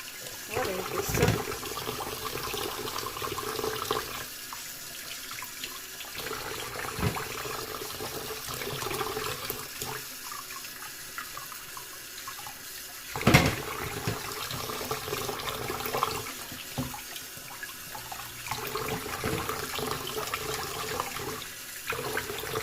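Greasy beef rib bones rinsed under a running kitchen tap, a steady stream of water splashing with shifting intensity and a few louder gushes, close by, with no talking.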